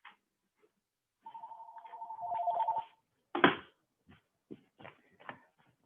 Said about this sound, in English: my phone just keeps ringing